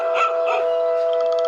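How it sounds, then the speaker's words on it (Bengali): A black dog barking from close by beside a riverside ferry boat, a couple of short barks over a steady tonal drone. "হঠাৎ আমার ঠিক পাশ থেকে একটা কুকুরের ডাক শোনা গেল"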